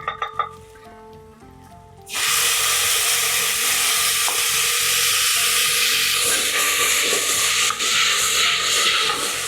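Onions, ginger, garlic and chopped tomatoes for Parsi mutton dhansak sauté in a pan, opening with a few quiet clinks before a loud, steady sizzle and hiss bursts in and holds, with occasional stirring scrapes underneath.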